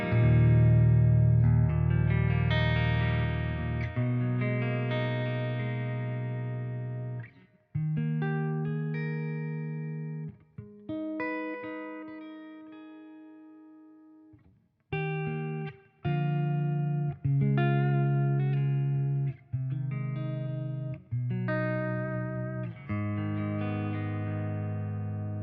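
An electric guitar plays a clean tone through a Victory MKX tube amplifier with the amp's reverb on. Chords and single notes ring out and decay, separated by brief pauses, with no talking.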